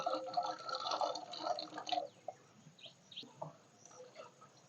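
Wild kurkuri mushrooms from the Bankura forest are washed in water, with close splashing and dripping for about two seconds that then drops to a few soft, scattered drips.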